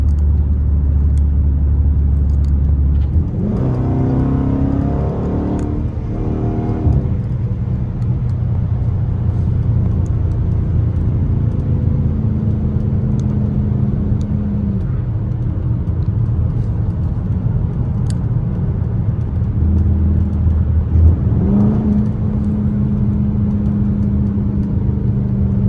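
Chrysler 300S engine pulling hard, with a rising, roaring rev sweep early on, a steadier cruising rumble, and then another surge of acceleration near the end, all heard from inside the car.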